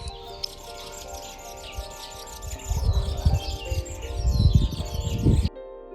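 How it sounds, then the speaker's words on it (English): Sparrows chirp in a Himalayan garden, giving busy, overlapping tweets up close, with low rustling and thumping noises underneath before everything stops abruptly at the end. "So these are the sparrows which you won't find in the cities nowadays."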